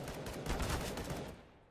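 Rapid automatic rifle fire spraying in Counter-Strike on the Mirage map, a dense burst of shots that rings close and loud, then tapers off.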